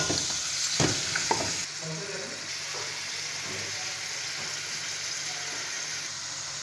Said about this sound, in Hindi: अब मटन डाल के कढ़ाई के अंदर तकरीबन इसको 5 मिनट तक अच्छी तरह भुनेंगे कि गोश्त का कलर बिल्कुल चेंज हो जाए